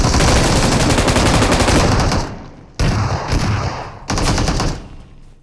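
Rapid automatic gunfire in the BGMI battle game, long loud continuous bursts that stop and restart twice, with short gaps of quiet between volleys.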